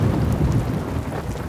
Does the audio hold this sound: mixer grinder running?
no